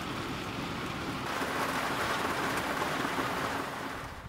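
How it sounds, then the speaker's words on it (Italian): Heavy rain drums steadily on a camper van in a downpour, a dense continuous roar with low rumbling that fits distant thunder, close and loud throughout with no talking. "è iniziato a piovere, comincia a diluviare, tuoni e fulmini"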